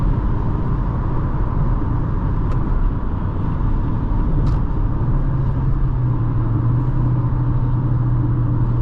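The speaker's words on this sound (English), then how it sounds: "in the sport mode, it's gonna keep the RPMs and the gears, so gears a little bit longer and the RPMs" A 2025 Mazda CX-5 GS SUV driving in sport mode, holding gears longer at higher RPMs, heard from inside the cabin as a steady loud engine drone and road rumble, with the engine tone rising slightly toward the end.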